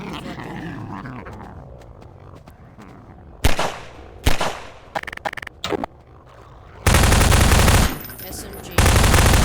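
Rapid SMG fire in the video game Garry's Mod comes in short, sharp bursts, followed by longer sustained loud volleys with brief gaps between them.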